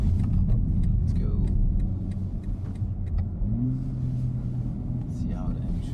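A BMW M3 Competition M xDrive Touring in rear-wheel-drive mode pulls away onto twisty roads, its engine droning low inside the cabin and rising in pitch as it accelerates, with someone talking over it.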